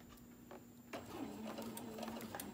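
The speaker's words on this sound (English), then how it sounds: "I'm going to try to sew as straight as I can with my white thread" Slow, careful stitching of white Velcro with white thread on a home sewing machine for a koozie: a quiet, faint mechanical whir with a light ticking rhythm picking up about a second in.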